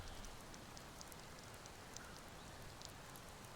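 Rain falling in the video game Skyrim, a steady soft hiss of drops with faint scattered patters, even and continuous without voices.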